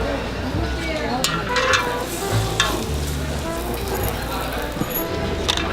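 Fried tteokbokki sizzling and being stirred at a Korean street food stall in a busy market, with steady frying hiss, scraping and clinks of utensils, and voices chattering nearby.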